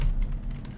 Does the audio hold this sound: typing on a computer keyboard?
yes